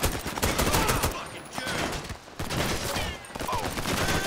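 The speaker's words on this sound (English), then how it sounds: "Man, we're taking a lot of heavy fire" Heavy gunfire in GTA 5 during an undercover police shootout at the Diamond Casino, a dense continuous barrage of rapid overlapping shots with brief lulls, loud and close throughout.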